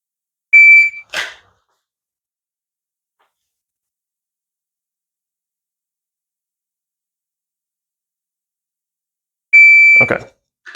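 A shot par timer beeping during a dry fire drill, two loud electronic tones about nine seconds apart with silence between them, each followed right away by a short sharp click.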